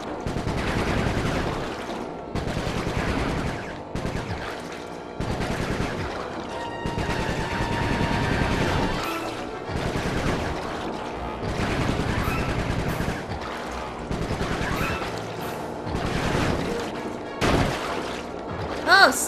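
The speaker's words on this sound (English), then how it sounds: "Sorry, Sly! My gun overheated! Guess I should use short burst" Gunfire in the Sly 3 video game comes in repeated short bursts of rapid shots, loud and close, separated by brief pauses, with game sounds mixed in.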